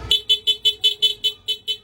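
A loud aftermarket rapid motorcycle horn honks in a rapid, evenly spaced series of about a dozen short, high-pitched beeps, close by.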